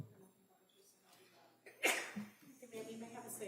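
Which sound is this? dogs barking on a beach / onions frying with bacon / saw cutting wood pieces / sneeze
sneeze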